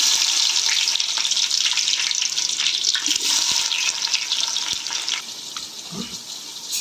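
Onions go into hot oil already holding bay leaf, cinnamon, cloves and cardamom for a seeraga samba mutton biryani, giving a steady, close, hissing sizzle throughout with a few small clicks of utensil contact.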